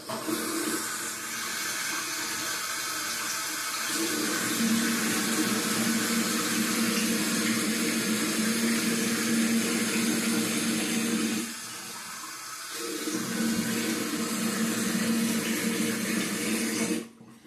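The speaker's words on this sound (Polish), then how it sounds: "Spłukałem twarz pod letnio, letnio zimną wodą" A bathroom tap runs with lukewarm water while a face is rinsed after shaving, a steady close rush of water that briefly drops to a quieter trickle near the end before surging again, with no talking.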